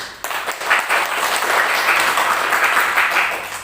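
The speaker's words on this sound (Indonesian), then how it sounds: "Tepuk tangan terlebih dahulu." Students in a vocational school classroom applaud a group presentation with a brief, lively round of clapping lasting about three seconds.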